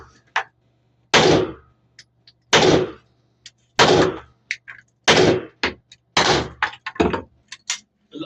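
A 9mm pistol fires at an indoor firing range: about six loud, sharp reports roughly a second apart, each with a short echoing tail, and quieter clicks and knocks between shots.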